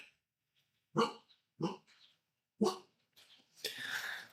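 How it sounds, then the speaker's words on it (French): A puppy barks three times in short separate yips, close and loud, followed by a longer breathy growl or whine-like vocal sound at the end. "la Billy, il arrête pas d'aboyer, c'est un peu chiant"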